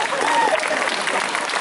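Outdoor audience applause at an evening show in a small town piazza in Ruvo di Puglia, dense steady clapping filling the whole stretch, fairly loud and continuous, with some voices mixed in.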